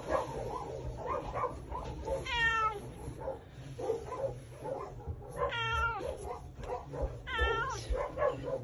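A cat meows several times in a short, rising, wavering cry, recurring at intervals over a busy background of low murmuring and handling noise indoors.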